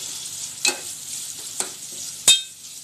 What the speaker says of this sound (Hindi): एक टमाटर डालेंगे छोटे साइज का,